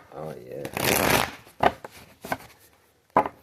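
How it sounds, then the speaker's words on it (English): Tarot cards are shuffled in a brisk riffle, followed by a few short snaps and taps as the deck is squared, close and clear. A voice speaks at the start. "Two more shuffles."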